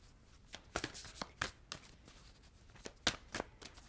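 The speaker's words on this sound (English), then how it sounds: "Let's shuffle the cards." A deck of tarot cards is shuffled by hand, giving a quiet sequence of soft riffling slaps and papery flicks in an uneven rhythm.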